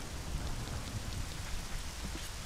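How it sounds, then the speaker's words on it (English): Steady rain pours in the Ocarina of Time game world, a dense, continuous hiss with soft patter that stays even and close throughout, with no voices. "Can the rain stop?"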